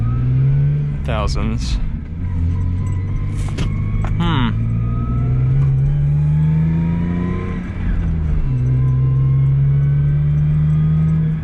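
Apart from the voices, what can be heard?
Lexus IS 300 engine idling in neutral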